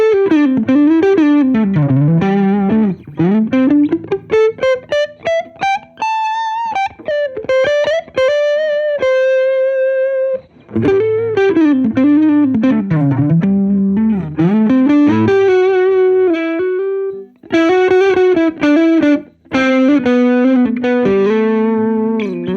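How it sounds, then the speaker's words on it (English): Electric guitar played through an amp plugin with a Duke of Tone overdrive pedal gives a crunchy, mildly distorted tone, alone and loud. Melodic single-note phrases and chords ring out with short pauses between runs. "It's a very nice crunch tone. I love this sound."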